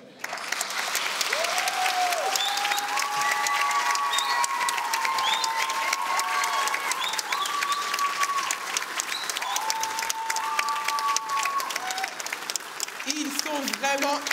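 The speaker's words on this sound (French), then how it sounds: "On les applaudit encore bien fort, le groupe numéro 22" An audience claps steadily for a performing group at a university stage evening, loud sustained applause throughout while a voice talks over it.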